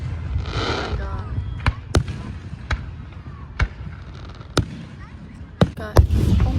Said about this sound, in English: look how bright those fireworks are